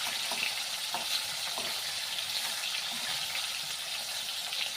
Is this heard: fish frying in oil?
yes